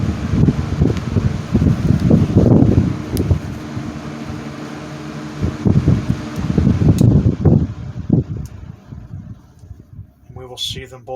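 A 1980s Patton and a 1960s Frigid box fan coasting down after being switched off, a steady whooshing airflow with fluttering rumble that fades gradually, close by, with someone talking over it.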